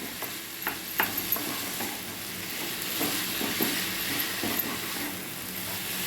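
Semolina roasting in ghee in a pan, a soft continuous sizzle with occasional scraping taps of a spoon stirring, quiet and close.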